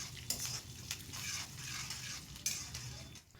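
Curry leaves and fenugreek seeds fry in tempering oil, a soft steady sizzle with a few sharp crackles and a spoon stirring against the pan, close but fairly quiet.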